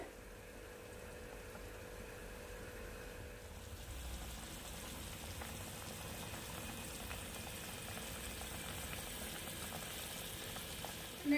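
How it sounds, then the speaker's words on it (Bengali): Singi fish curry broth with potato and green banana simmers in a pot, giving a soft, steady bubbling hiss that swells slightly partway through and is heard alone. "পুরো ঝোলটা এবার ফুটে উঠবে।"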